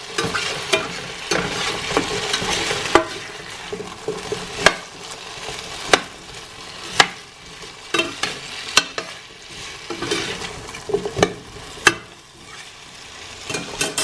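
Potatoes frying in a pan, a steady close sizzle with repeated sharp scraping knocks of a utensil stirring them at irregular intervals.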